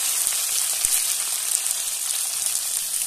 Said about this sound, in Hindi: इसमें डाल देते हैं हम प्याज कटा हुआ